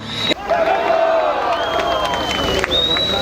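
Crowd cheering and clapping welcomes Sevinç Yazgan, provincial party chair, at an outdoor political rally in Uşak, with whistles and shouts over a loud, steady roar.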